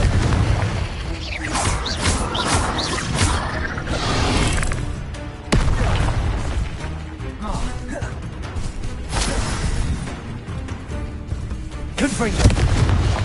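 Confringo fire spell blasts in Hogwarts Legacy, loud repeated booming explosions with crackling impacts and mechanical clatter across the whole stretch, with a sharp hit near the middle and more bursts toward the end.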